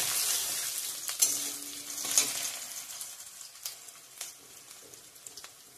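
Cumin seeds sizzling in hot oil in a pan, a steady close hiss of frying with a couple of brief clinks of stirring, no talk.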